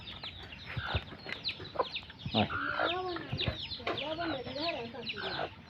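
A domestic bird, most likely a duck, calls repeatedly from fairly close range in a backyard bird enclosure, giving nasal, clucking honks in short bursts with other soft bird and ambient noise behind.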